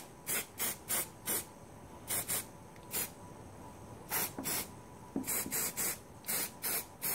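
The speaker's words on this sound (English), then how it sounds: "So I'm just going to spray all the linkage." Short bursts of aerosol lithium grease hiss out onto the gear selector linkage of a Yamaha Grizzly 450 ATV, a dozen or so quick sprays in an irregular rhythm, close and alone.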